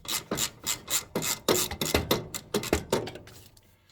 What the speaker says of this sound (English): So using a 14mm socket, you need to remove this to allow you to be able to get the belt off.